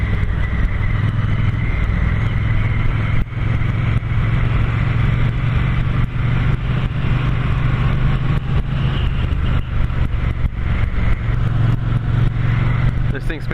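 A 2016 Triumph T120 twin motorcycle engine runs with a low, steady rumble that sits beneath someone talking the whole time, with scattered clicks and handling noises.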